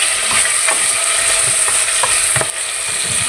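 Chicken sautéing in a pan for chicken sinigang with tomatoes, a steady close sizzle with light stirring clinks and scrapes, no talking.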